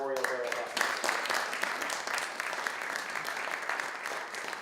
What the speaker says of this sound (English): let's give the board and all those members, Josh and Peter, a round of applause